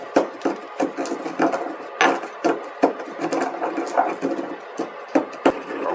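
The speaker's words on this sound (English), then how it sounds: "you just want to go ahead and get your peppercorns in there, grind them up" Black peppercorns are ground by hand in a grinder or mortar, giving a close series of sharp, woody crunches and scraping rubs in an irregular rhythm with no talking.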